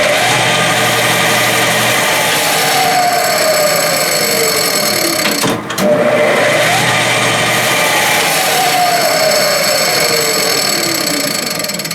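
Clausing lathe belt drive spinning up and braking over a couple of cycles, a steady mechanical hum with motor tones sliding down as the spindle slows, broken by a short clunk midway, close and continuous without speech.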